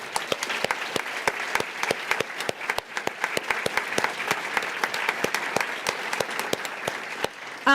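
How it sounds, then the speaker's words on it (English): Graduating students at a university honors convocation applaud themselves, a dense and steady round of clapping from a large crowd that holds strong throughout before it cuts off abruptly. "please give yourselves a round of applause"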